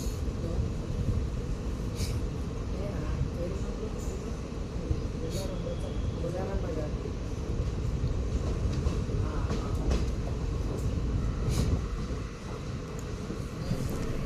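A passenger train pulls away from Alwal railway station in Telangana after a one-minute halt, a steady close rumble of moving carriages with faint clicks running throughout, under light speech.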